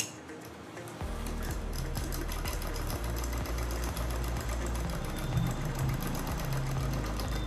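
Sewing machine stitching the fitting seam of a kurti, starting after a second of quiet and then running continuously with a rapid rhythmic needle clatter and motor whir, close and alone.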